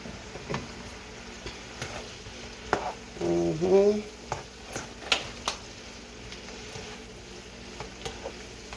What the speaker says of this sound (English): they sizzling now